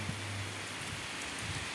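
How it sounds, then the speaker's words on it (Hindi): Heavy rain falling close by in a steady, dense wash, loud enough that spray carries indoors; no voices. "क्योंकि छींटे आ रहे हैं यहाँ तक, काफ़ी तेज़ बारिश है"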